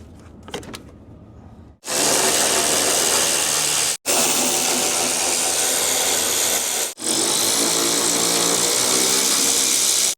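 A power tool cuts through a stripped radiator bolt on a cheap old truck, making loud, continuous grinding in three long bursts separated by short pauses.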